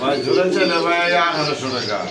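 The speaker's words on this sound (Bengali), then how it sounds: "খুবই কিউট কবুতর সাদা রসগোল্লা কবুতর" White pigeons coo in soft, throaty bursts close by, mixed in with a person talking over them.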